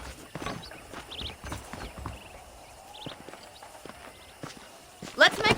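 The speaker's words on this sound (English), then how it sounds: "let's see if you can still ride a horse" Horse hooves clip-clop at a walking pace in the Red Dead Redemption video game, steady soft hoofbeats on a ranch under talking voices and faint ambient game sounds.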